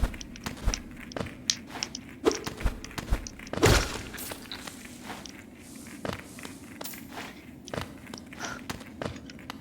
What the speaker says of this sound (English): I'm very sorry if anyone hears gross chewing sounds on my end